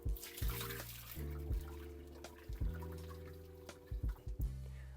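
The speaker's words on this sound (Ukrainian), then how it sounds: "Беремо і зливаємо воду." Water drained from boiled potatoes pours and splashes steadily into a sink, a continuous rushing stream with a few louder gushes and knocks, fairly close.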